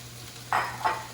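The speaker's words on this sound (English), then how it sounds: "take my spatula and just start mixing everything together to make sure all of my vegetables get a nice, beautiful coat of the all-purpose flour" Spatula mixing all-purpose flour into cooked vegetables in a pan, for a dairy-free chicken pot pie filling: two quick, close scraping strokes over a quiet background.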